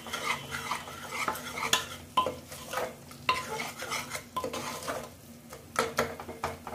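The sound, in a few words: stirring and frying masala in a pan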